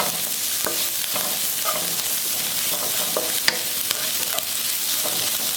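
Crushed ginger and garlic sauté in a pan over a medium flame for Sri Lankan tempered rice. A continuous close sizzle is broken by repeated spoon scrapes and light clinks.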